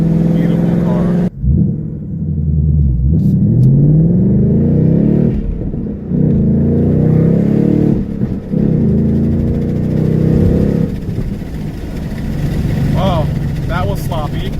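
A 2019 Ford Mustang Bullitt on a residential street accelerates hard, its engine loud and close as it revs up through the gears, with a driver talking over it.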